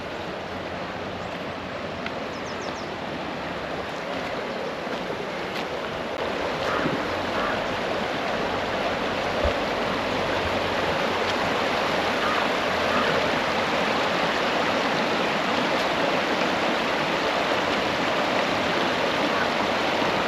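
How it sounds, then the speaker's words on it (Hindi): River water rushing past a riverside camp near Rishikesh, a steady broadband roar of flowing water over rocks, close and continuous, with no talking. "ये पानी की आवाज़ एक बार सुनो यहाँ पे।"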